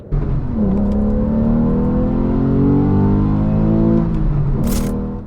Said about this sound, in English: a naturally aspirated flat six engine